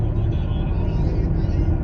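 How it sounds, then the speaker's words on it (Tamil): A bus idles in heavy midday road traffic in Kuwait, giving a steady, close, low engine rumble that holds at an even level throughout with no distinct breaks. "ஆமாம், குவைத்து தேசம் பஸ்ஸு டிராஃபிக்கில் நிற்கிது"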